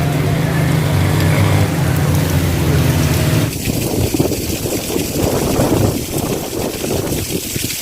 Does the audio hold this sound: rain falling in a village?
yes